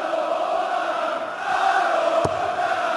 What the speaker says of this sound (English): And German crowd getting involved this evening.